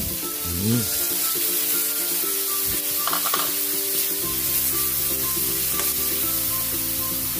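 Onion and miso go into a hot pan for sinigang sa miso, setting off a steady, close frying sizzle with stirring scrapes throughout, and music plays underneath.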